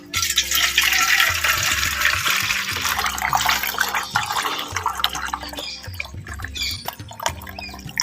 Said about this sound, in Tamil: ஒரு தனியாக ஒரு பாத்திரத்தை எடுத்து அப்படியே இந்த இரும்பு செல்லடையில் அப்படியே வடிகட்டிக்கிறோம்